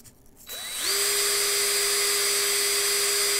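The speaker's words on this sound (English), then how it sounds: "So I wrap it in tape, put it inside the drill, let the tape take some of the pressure from the chuck" A power drill spins a tape-wrapped piece against 320-grit sandpaper, starting with a rising whine that settles into a steady, loud, high-pitched hum with a gritty, sanding hiss, close by.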